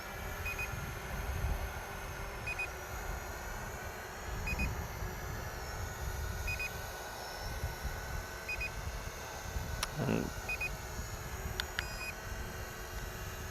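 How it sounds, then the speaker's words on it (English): Snaptain SP510 drone giving short, faint electronic beeps at regular intervals of about two seconds while recording, over a quiet background rumble. "Okay, apparently it beeps at you."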